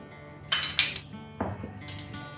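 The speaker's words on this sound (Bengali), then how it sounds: "সুজির সাথে লবণটা খুব ভালো মতো মিশিয়ে দিলাম।" A metal spoon scrapes and clinks against a bowl while salt is stirred into dry semolina, a few separate clinks and short scraping strokes, close and fairly quiet.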